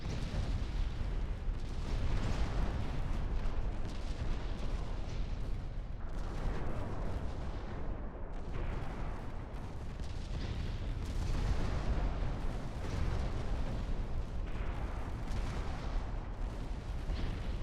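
Warship naval guns fire in a naval battle in Ultimate Admiral Dreadnoughts, a dense continuous barrage of booming salvos and rumbling blasts overlapping throughout, loud and without talk.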